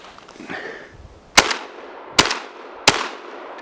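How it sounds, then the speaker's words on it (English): Three loud, sharp shotgun blasts from a Dominion Arms Cougar, a Remington 1100 clone, firing slugs outdoors, spaced under a second apart, each followed by a brief rolling echo, with faint handling noise before the first shot. "Now I'll shoot some slugs just off to the right of the birdshot."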